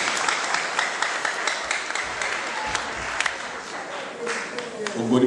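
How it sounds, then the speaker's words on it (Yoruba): A church congregation at a Yoruba prayer service applauds for Jesus, with sustained dense clapping from a large crowd throughout. "Pàtẹ́wọ́ rẹ̀ fún Jésù."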